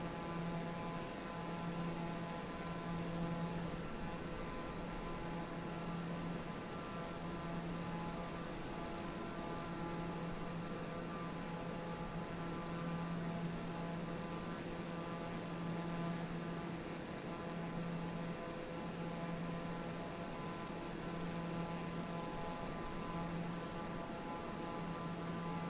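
A Cessna's engine drones steadily and evenly in the Tailstrike Air flight game, flying along a South African coastline with a constant hum that holds at the same level throughout, with no voices.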